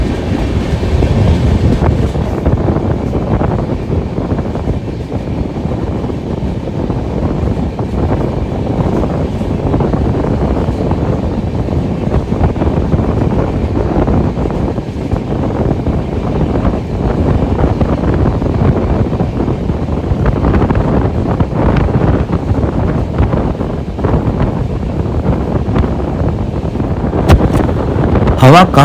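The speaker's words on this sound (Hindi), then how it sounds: "हवा काफ़ी तेज़ चल रही थी, जैसा कि आप रिकॉर्डिंग में आवाज़ भी सुन पा रहे होंगे" Strong wind rushes and buffets past the Darshan Express as it moves, a loud continuous roar mixed with rumbling and rattling from the rail cars, with occasional clicks from the track.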